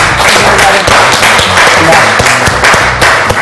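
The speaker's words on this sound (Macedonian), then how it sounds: "златото го делат Марија и Александар, повелете чисто да ви дадеме голем аплауз" An audience gives a loud, sustained burst of applause for the winners on a televised Macedonian cooking reality show, dense clapping filling the room from start to finish.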